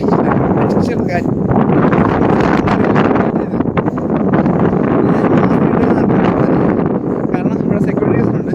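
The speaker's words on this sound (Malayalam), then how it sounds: "ഒരു രക്ഷയുടെ കാറ്റാണ്" Strong wind buffeting a hilltop on a trek through the Vagamon hills, a loud, steady roar that runs through the whole stretch with gusty surges.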